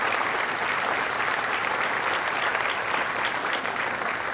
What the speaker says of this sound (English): those people deserve a big round of applause